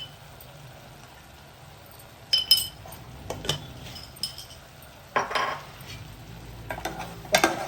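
Okra frying in a pot with chilli powder for a mixed vegetable stew, stirred with a metal utensil: soft sizzling throughout with several bursts of scraping and clinking stirs, close up, no talking.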